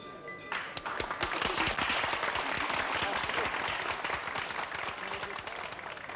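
Audience applause for a performer in a 1977 French television setting: dense, brisk clapping that swells after a brief opening tone and holds steady, fairly loud and close, with no talking over it.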